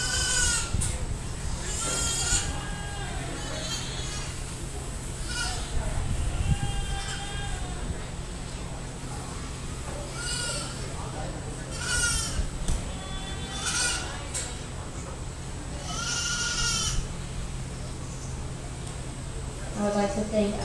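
Myotonic goats bleat repeatedly at the 2022 Dearborn County Fair goat show, with several wavering calls scattered through the crowded arena over steady background noise, while a voice talks throughout.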